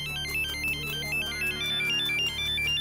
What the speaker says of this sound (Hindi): ओह, वैजंती का फोन।